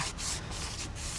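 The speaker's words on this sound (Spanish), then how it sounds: "lo que vamos a hacer es lijarlo en cada grieta" A boat hull is hand sanded with 180 grit sandpaper, making rhythmic scratchy rubbing strokes, about four back-and-forth passes, close and fairly quiet, with no talk.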